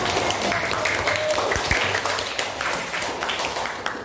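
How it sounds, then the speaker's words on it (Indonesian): A classroom of students claps together in a dense, steady burst of applause that carries on throughout. "Kita tepuk tangan untuk diri kita semua."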